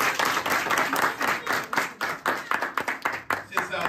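A church congregation claps in sustained applause during a service, rhythmic hand claps filling the room, close and steady with a murmur of voices underneath.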